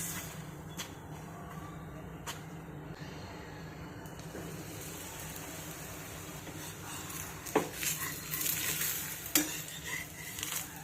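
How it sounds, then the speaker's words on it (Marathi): A gram flour pancake (dhirde) cooks on a hot griddle over medium gas, giving a steady low sizzle with light scraping and a few louder clinks from a spatula near the end. "मंद गॅसवर आपण आता हे धिरडं लो ते मीडियम गॅसवरती छान भाजून घेऊयात"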